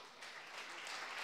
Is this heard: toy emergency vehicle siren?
no